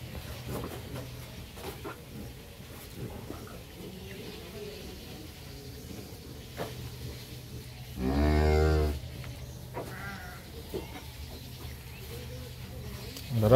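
A milking cow on a dairy farm moos once, loud and near, a low drawn-out call lasting about a second amid background farm noise and faint talk.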